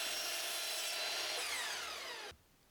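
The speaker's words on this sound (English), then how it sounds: "Now grab a stack of slats and line them up along that angle you made and make your first cut." A power saw cuts loudly through a stack of wood slats with a steady high whine that drops in pitch as it bites, then stops abruptly near the end.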